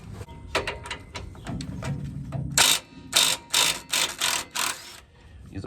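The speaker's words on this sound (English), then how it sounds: "I'm using a 21mm socket." A ratchet with a 21mm socket loosens the rear brake caliper bracket bolt on a 2013 Ram 1500, rapid close clicking pawl bursts, first light and quick, then several louder separate ratcheting runs with short pauses between, no voices.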